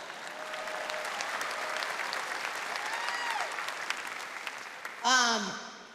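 Audience applause at the UCLA women's basketball national championship celebration breaks out suddenly near the end as a loud, close burst of clapping, after someone speaks over quiet room tone.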